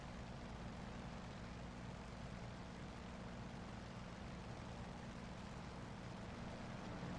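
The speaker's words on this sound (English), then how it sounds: "if you hold your head out, you can hear the engine different pitch and stuff like you would in real life" Steady propeller engine drone of an F4U-1D Corsair in a flight video game, a constant broad roar heard from the cockpit with no talking.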